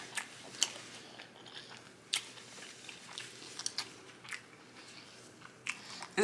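Crunchy Five Guys fast food is bitten and chewed close to the microphone, giving sharp, irregular crunches and soft wet chewing spaced across the moment with no talking.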